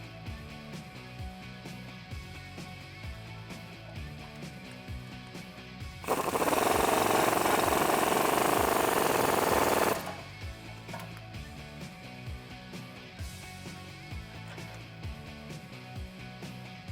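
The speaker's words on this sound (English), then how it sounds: "we can bolt up our sway bar end links using the factory hardware and tightening that down with an 18mm socket and wrench" Power tool driving the factory hardware on the sway bar end links of a lifted Jeep Wrangler JK: a loud, harsh burst of about four seconds stands out over a steady mechanical clatter in the background.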